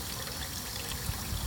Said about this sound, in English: We'll just take a moment to enjoy the water.